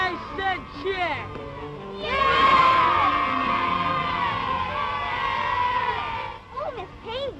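Children shouting and cheering in unison for their teacher, a loud, high, sustained roar of voices that rises after some speech and dies away into talk at the end.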